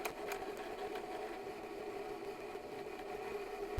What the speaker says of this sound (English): please enjoy this intermission of me winding my bobbin